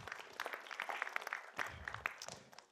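An audience at a technical conference talk claps for a short while, a moderately faint patter of many hands that tapers off toward the end.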